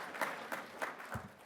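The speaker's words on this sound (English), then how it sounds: "Now you clap." A small audience at a programming talk on the uv package manager gives a brief, sparse round of clapping, a few quiet pulses of hands lasting just over a second.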